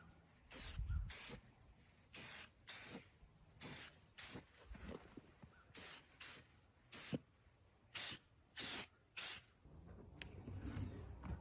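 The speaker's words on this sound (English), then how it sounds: "I'm gonna tape it off and spray it with clear coat" A spray can lays clear coat onto a car headlight in about ten short, sharp hissing bursts, mostly in pairs with brief pauses between, close and loud over a quiet background.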